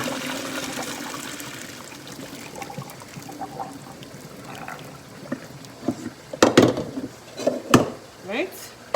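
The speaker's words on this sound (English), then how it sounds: "So I'm just going to pour off the water." Water from cooked broccoli is poured off from a pot, a rushing, splashing trickle with clunks of the cookware, while a person talks over it.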